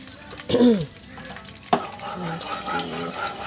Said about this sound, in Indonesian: Tumis bawang merah dan bawang putih, kita tumis ya, Bun, sampai wangi, sampai layu.